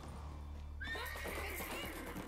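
A horse in the video game The Witcher 3 whinnies loudly with a shaky, descending neigh over a steady low background hum, hooves faintly clopping beneath.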